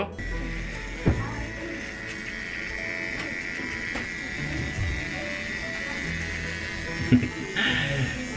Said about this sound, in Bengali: এগুলো এখনই আমার ট্রিমার দিয়ে ক্যাচাস ক্যাচাস করে ফেলে দেব